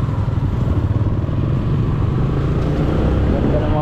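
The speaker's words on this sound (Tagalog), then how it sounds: "Ganda ng mga motor ng estudyante. Rider, Click, PCX." Students' motorcycles and scooters, including Rider, Click and PCX models, rumble past nearby with a loud continuous engine drone and some clatter.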